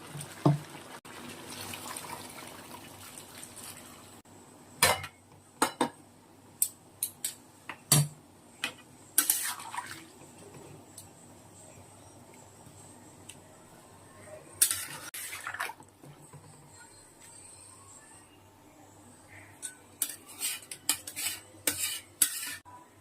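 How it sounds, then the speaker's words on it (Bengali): Fried potatoes and hot water go into a pot of Bengali-style chicken curry: metal spoon clanks and scrapes against the pot, with soft splashing and stirring between sharper knocks. "এবার ভেজে রাখা আলুগুলো দিয়ে দেবো, সাথে দিয়ে দেবো গরম জল।"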